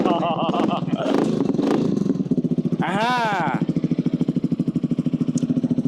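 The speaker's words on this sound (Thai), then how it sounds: "ขอให้ฟังพอได้เห็นอารมณ์ของเครื่องยนต์ว่าเป็นยังไงบ้าง" A new Yamaha XMAX scooter engine at a club meeting: a loud voice talks over it at first, then a steady, rapid, throbbing engine pulse continues close by.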